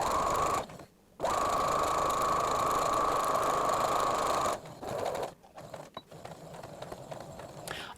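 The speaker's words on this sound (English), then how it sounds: "our first step with the sewing machine is just to sew along here." Sewing machine top stitching across folds of a cloth face mask, a steady close mechanical hum with a brief pause early on, then stopping and giving way to faint handling sounds.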